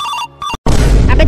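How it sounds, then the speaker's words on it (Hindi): Phone ringing in a 3D bike driving video game, a short burst of bright tonal ringing that cuts to a brief silence, then gives way to a louder, noisy clash of game sounds. "फोन आया। उठाइए ना।"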